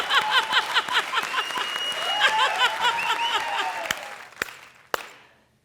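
A studio audience at the Kapil comedy show bursts into loud, sustained applause with whoops and cheers, which tapers off and fades over the last second.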